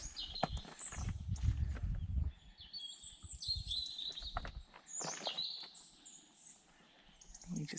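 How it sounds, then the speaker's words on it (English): Birds chirp and whistle in high, scattered calls on a hike to Quarter des Carabiniers, with a low rumble of movement near the start and quiet outdoor ambience between calls. "Lots of birds."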